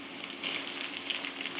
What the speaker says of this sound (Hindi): टमाटरों को अच्छी तरह भून लेती हूँ मैं, अच्छी तरह नरम हो जाए